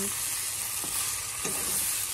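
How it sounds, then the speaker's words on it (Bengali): Garam masala fries in bubbling oil in a pan, giving off a steady close sizzle with a couple of faint stirring scrapes and no voices. "গরম মশলাটা ভাজা হচ্ছে আর আলাদা রকম একটা সেন্ট বেরোচ্ছে।"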